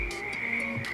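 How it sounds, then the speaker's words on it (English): Frogs croak in a swamp in the Farming Simulator 22 video game. A few short, raspy croaks repeat over a steady, high insect-like drone. "Hey, we got some frogs."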